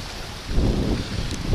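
Strong wind gusting past a countryside dacha during a rainy storm, a broad roaring rush that swells louder partway through, heard alone with no talk.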